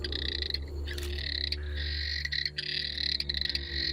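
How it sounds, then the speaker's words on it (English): Frog found only around Kakadu in Australia, giving a dense, high, continuous trilling call in pulsing bursts, close and loud over a low steady background hum of other night calls. "One of our really unique frogs that's only found in this area, nowhere else in Australia."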